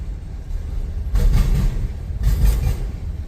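CSX freight trains pass each other on a line east of North Baltimore, Ohio, giving a steady low rumble with two bursts of rhythmic wheel clatter close by.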